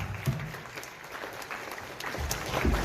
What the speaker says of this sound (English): Let's give another round of applause to our panelists